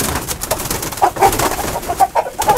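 Chickens raised as giant broiler-type birds cluck and coo intermittently at feeding time, several short calls close by over a steady rustling background, with no talking.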